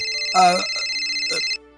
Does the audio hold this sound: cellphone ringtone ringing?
yes